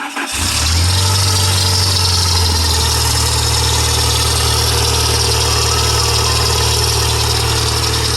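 A 1989 Utilimaster Aeromate ice cream truck engine cranks briefly and catches, then settles into a loud, steady idle with a low rumble and constant hum, heard up close without voices.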